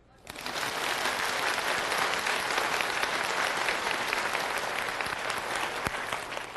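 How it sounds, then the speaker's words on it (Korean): A congregation at a church sermon bursts into applause, rising quickly at the start and then holding as a dense, even wash of clapping for several seconds. "박수"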